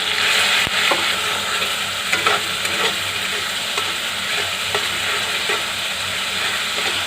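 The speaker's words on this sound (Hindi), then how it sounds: "हम इसमें अदरक, लहसुन और प्याज का जो पेस्ट है वो ऐड कर रही हूँ।" Ginger, garlic and onion paste fries with spices in a pot, giving a steady close sizzle and hiss broken by scattered scraping stirs and clinks, with no voice.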